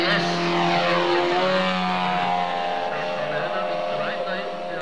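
A model airplane's 156 cc, 17 hp engine runs at a 1990s model-building trade fair in Erfurt, a loud, steady propeller drone with a strong harmonic whine under continuous close talk.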